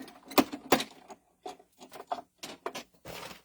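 A hybrid embossing machine cranks paper through in short bursts of clacking and grinding, pausing between passes, fairly close and with no talking.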